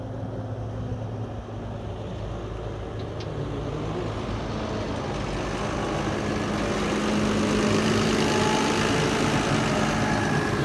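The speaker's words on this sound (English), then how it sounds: "Here's the other tractor coming." A farm tractor, a 66-plate red model, drives toward the listener along a rural road, its low diesel engine drone steadily growing louder and nearer over roughly ten seconds, with no talking.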